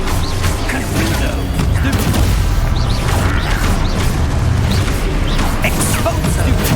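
Confringo fire-blast spells and combat effects from Hogwarts Legacy, a dense stretch of booming blasts, pops and mechanical crashes layered over heavy low rumble, loud and continuous.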